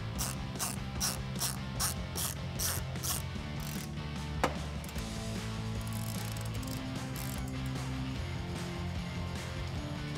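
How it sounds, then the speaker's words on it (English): A ratchet with a T15 Torx bit clicks in a fast, steady pawl rhythm, close and loud, while threading factory hardware through the top of an OEM-style fender flare on a 2019-2022 Chevrolet Silverado 1500. "And your T15 Torx bit once again."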